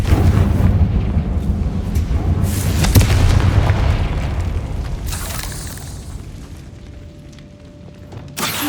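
A Confringo blasting spell from Hogwarts Legacy erupts in a loud, rumbling boom that rolls on for several seconds before fading, then ends with a short sharp burst.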